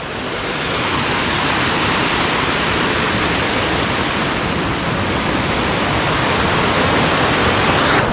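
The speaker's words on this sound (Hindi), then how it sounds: "यहाँ के पानी हर मस्त वाटरफॉल जो गिरा तो हर मस्त झाँ झाँ करत है" Waterfall at Fish Point near Mainpat, Ambikapur, water plunging down into a gorge: a loud, continuous broadband roar that stays steady and close throughout, with no voices.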